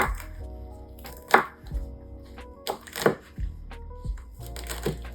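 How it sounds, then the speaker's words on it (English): A knife rough-chopping shredded carrots on a cutting board for a summer salad, giving several uneven thunks and scraping gathers, close and clear with no talking. "Gently rough chop it so it's not going all over the place."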